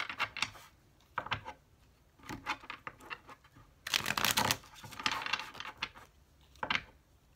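Tarot cards riffle and slap together in quick papery bursts, a few short shuffles followed by a longer, louder one, close and without talk.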